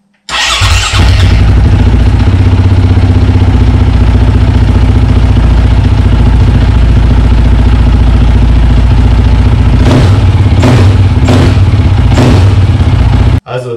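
KTM 530 EXC supermoto with an Akrapovic titanium full exhaust system, starting in a garage and idling loudly and close for a long stretch, with a few sharp revs near the end before it cuts off.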